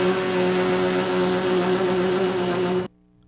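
Steady lip buzz from a brass player's embouchure, a baritone beginner exercise, holding one sustained pitch for nearly three seconds before stopping abruptly, alone with no talk.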